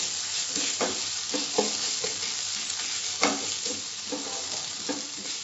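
Ginger garlic paste frying in a hot pan for an Andhra-style boiled masala egg fry: a steady, fairly soft sizzle with repeated scraping stirs every second or so.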